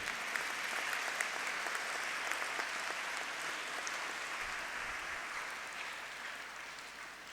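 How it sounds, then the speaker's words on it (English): Audience clapping at a school investiture ceremony, a steady wash of applause from a large crowd that holds its level throughout and thins only slightly toward the end. "And we will give them a big clap."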